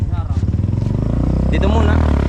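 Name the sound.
motorcycle engine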